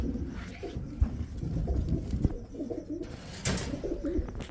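A pair of new adult red ash Gola pigeons coo softly and repeatedly at close range, amid low rustling and a few sharp knocks.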